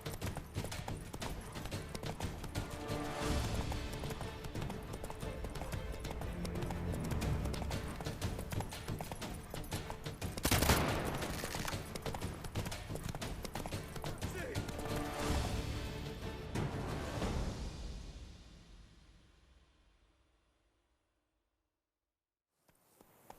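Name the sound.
horse galloping in video game The Witcher 3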